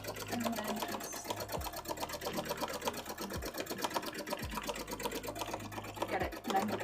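A sewing machine stitches cosplay fabric in a loud, fast, even needle rattle that carries through the whole stretch, with a few brief low thumps along the way.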